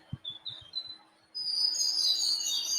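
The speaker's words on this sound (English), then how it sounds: "listening to the birds," A few soft low knocks, then birds chirping brightly, a dense high twittering that swells and continues steadily, fairly near.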